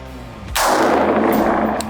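Single rifle shot fired on a training range, a sharp loud blast with a long booming decay, preceded by quiet background and followed by a faint click.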